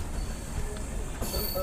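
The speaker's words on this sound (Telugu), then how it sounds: "సో గూడూరు జంక్షన్కి మన ట్రైన్ వచ్చేసి ప్లాట్ఫామ్ 3కి అయితే వచ్చింది." Amrit Bharat Express pulling into platform 3 at Gudur, a steady close rumble of rail cars with faint wheel squeal and a sudden brighter hiss and clink near the end.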